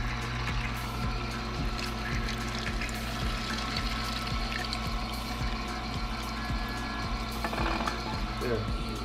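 A juicer presses green juice and pours it out, its motor thumping in a steady rhythmic pulse beneath a constant liquid rush, close and moderately loud.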